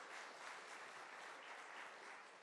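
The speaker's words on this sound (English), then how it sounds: "the claps are already on" Audience applause fills the room at the close of a conference opening address, a dense, steady wash of clapping from many hands that holds evenly throughout with no voices over it.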